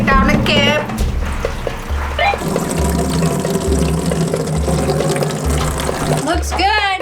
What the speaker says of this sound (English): I'm just putting water up here because it might take a little time for it to work its way through.